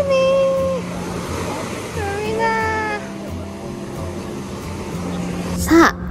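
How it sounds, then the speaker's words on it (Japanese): Ocean waves roll onto a shore as a steady broadband wash, fairly strong, with wind noise and some tonal sounds over it. "波は少し強めですが、海で遊びます。"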